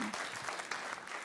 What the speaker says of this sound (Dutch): ik wil even een applaus voor Tjibbe, voor Siert en voor Freddy